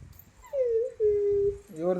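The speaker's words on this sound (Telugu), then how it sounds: "ఎవరిదా కుక్క పిల్ల" A puppy whimpers close by in two drawn-out, high, wavering whines followed by a brief yip, with low background murmur underneath.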